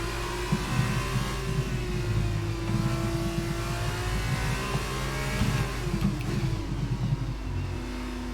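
An F2 race car engine in the racing game F1 22 at the Australian circuit, a loud, continuous high-revving drone with rising and falling pitch through gear changes, close and steady with no talk over it.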